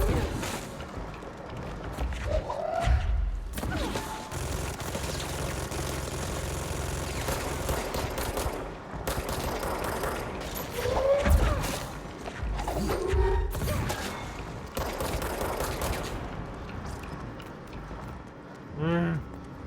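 An enemy minigun in the video game Control fires in long rattling bursts mixed with clanking game action, loud and recurring throughout, with no one speaking over it.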